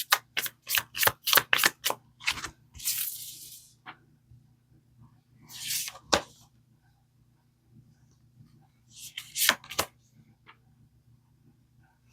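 Tarot cards get shuffled up close in a quiet room, a quick run of crisp riffling flicks at first, then a few separate bursts of shuffling with pauses between, no one speaking.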